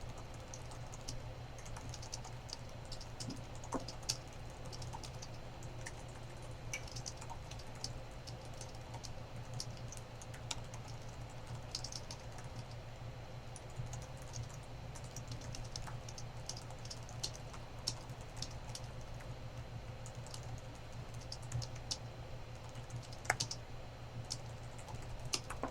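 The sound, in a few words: typing on a computer keyboard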